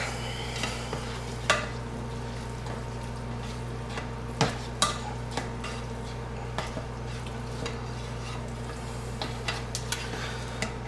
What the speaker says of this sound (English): we're going to mix the meat in with the milk